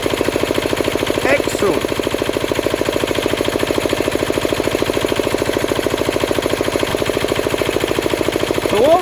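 A diesel air compressor idles unloaded at 150 psi, its engine thumping in a steady rapid rhythm close by, with a brief voice and a few faint squeaks over the running.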